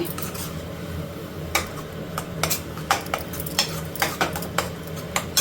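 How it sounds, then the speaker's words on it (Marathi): A spatula stirs pav bhaji masala in a pan, making a string of sharp metallic clinks and scrapes at an uneven rhythm over a low background hum. "तोपर्यंत इकडे मसाला पण परततोय"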